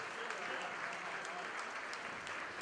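Audience applause at a patriots' dinner in Quebec, a dense even patter of many hands clapping throughout, moderately distant and without pauses.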